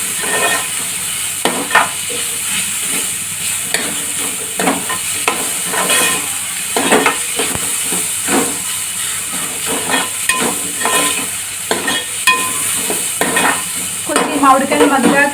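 Mango prawn curry with ginger garlic paste being stirred in a pan: steady close sizzle and frying hiss with repeated scraping strokes of a spoon against the pan, continuing throughout without talk.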